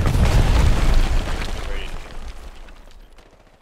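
Gunfire in the Hell Let Loose video game sounds as a loud, booming burst up close, then rumbles and fades away over a few seconds.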